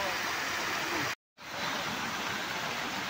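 Fountains at Brindavan Garden in Mysore pour a steady, dense rush of water. The roar is broken once by a short dropout, then continues evenly with no voices.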